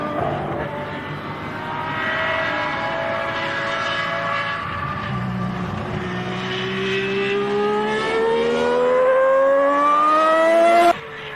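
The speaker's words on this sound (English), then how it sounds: "The 12-cylinder engine snarls as Mansell accelerates away, with apparent disregard for the wet circuit." A 12-cylinder Formula 1 engine in Nigel Mansell's car accelerates hard away on a wet circuit, a loud close snarl whose pitch climbs steadily through the revs before cutting off abruptly.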